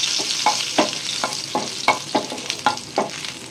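Chopped garlic fries in a couple of spoons of hot white oil, giving a steady close sizzle broken by a run of sharp stirring scrapes at roughly even intervals, with no voices.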